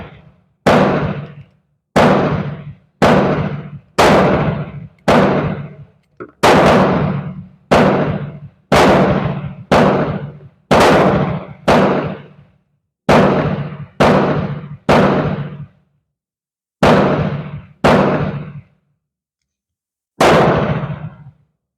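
A Beretta Olympia pistol fires standard-velocity .22 lead-nose target rounds. About eighteen loud, sharp reports come at a steady pace roughly one per second, with longer gaps late in the string. Each crack is close and dry with a short decay, and no voices are heard.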